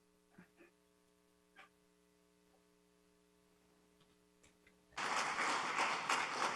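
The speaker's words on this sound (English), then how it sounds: "I appreciate hearing the rounds of applause" A quiet room with a steady electrical hum and a few faint knocks gives way to a sudden, loud round of sustained audience applause at a city-building conference session on resiliency.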